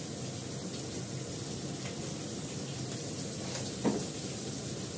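Cumin seeds sizzling in hot oil in a pan, a steady, dense frying hiss that runs throughout, with a brief clink near the end.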